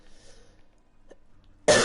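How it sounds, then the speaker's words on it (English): A single sharp cough bursts out at the very end after near silence, close and loud. "you might hear me cough a lot because of my allergies"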